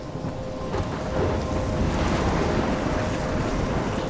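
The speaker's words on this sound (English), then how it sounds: "I'm trapped in a storm?" A storm roars in the Life is Strange video game, with a dense, steady rumble of wind, crashing waves and thunder that stays loud and continuous.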